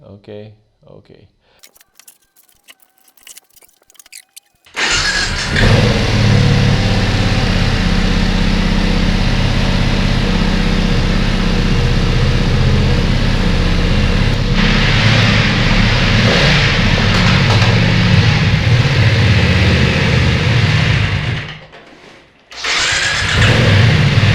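A 2020 BMW F900R motorcycle engine starts after faint handling noises, then idles loudly and steadily up close with rising revs, drops out briefly near the end and fires again.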